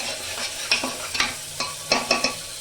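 Masala for rajma is sautéed in a pan: a close, steady sizzle punctuated by several sharp spatula scrapes and taps in an uneven rhythm.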